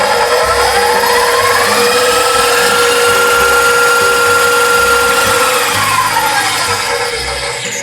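A KitchenAid stand mixer with its paddle attachment beats pound cake batter in a bowl, giving a loud, continuous motor whine with a faintly changing pitch and a rumbling churn beneath, close and steady throughout.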